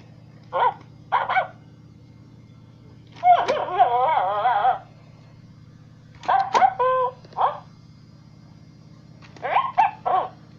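A jealous new puppy lets out short, high yips and whimpering barks in several separate bursts, with a low steady hum underneath.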